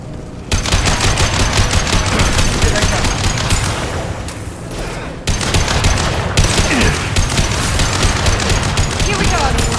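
Sustained automatic gunfire in the Mass Effect 2 Legendary Edition video game, loud rapid bursts that run almost continuously with a brief lull midway, along with some talk.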